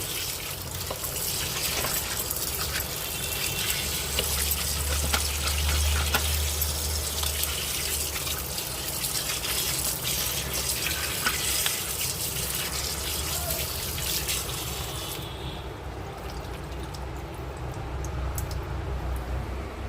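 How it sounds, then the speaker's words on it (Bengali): Tap water gushes steadily into a sink as raw chicken is washed under it, a continuous close splashing rush with shifting texture as the pieces are turned, cutting off sharply near the end. "আবার একবার ধুয়ে নেবো ভালো করে"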